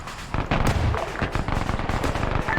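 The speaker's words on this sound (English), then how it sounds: "Fucking auto cannons engaging us from across the airfield." Autocannons firing from across an airfield in a military shooter game: a fast, continuous series of sharp reports at moderate distance, dense and rattling with no talk.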